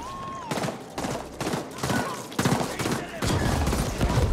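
Rapid bursts of gunfire from a sci-fi action game, sharp repeated shots in uneven volleys, loud and close, with occasional game voice or effects mixed in.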